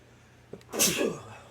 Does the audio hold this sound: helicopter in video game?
no